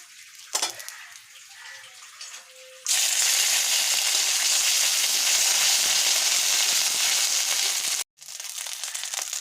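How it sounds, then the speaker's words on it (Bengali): Dried chillies, bay leaves and ginger hit hot oil with a sudden loud hissing sizzle that starts after a few quiet seconds and holds steady, briefly cut off near the end before resuming, with small clinks beforehand. "শুকনো লঙ্কা দেবো, তেজপাতা দেবো, আদা ফোড়ন দেবো।"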